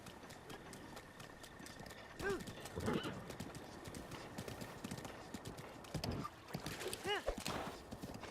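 Horse hooves clip-clopping in The Legend of Zelda: Breath of the Wild, a steady trotting rhythm under game music and ambient birdsong, with a whinny-like sound around the middle and near the end.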